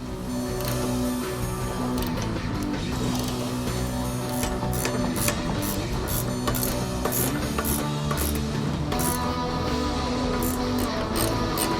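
A ratchet clicks steadily while bolts are tightened down during installation of a Ford Performance half shaft kit on a 2015-2023 Ford Mustang, with dense metallic ratcheting running continuously and close throughout.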